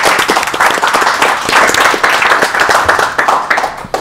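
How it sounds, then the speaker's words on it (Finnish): Loud, dense applause from an audience at a live Bitcoin-versus-gold debate, a steady wash of many hands clapping close by for several seconds. "Antakaa Tuomoksellekin aplodit"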